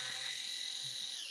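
A power drill runs with a steady, high-pitched whine that holds continuously for about a second, close and fairly loud, with no voices.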